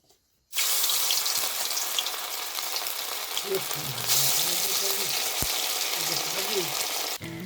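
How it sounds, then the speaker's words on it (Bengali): Marinated chicken pakoras fry in hot oil in a rural village kitchen, with a loud, steady hiss and crackle that cuts in abruptly and runs throughout. Voices murmur faintly underneath partway through. "তো এখন আমাদের চিকেন পকোড়া প্রায় ভাজা হয়ে গেছে"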